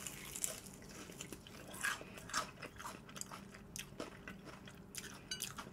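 Crisp, crunchy bites and chewing of fried chicken sound close to the mouth, with several sharp crunches over a few seconds. The crunches are quiet but clear, with no talking.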